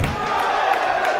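A wrestling crowd in an arena reacts to a steel-chair attack on Tim Thatcher, a loud, steady roar of many voices heard from within the audience.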